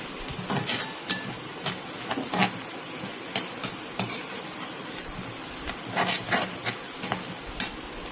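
Onions or aromatics sautéing in a pan for an okra fry: a soft, continuous sizzle with intermittent sharp scrapes and clinks of a spoon stirring against the pan, close and moderately quiet, no voices.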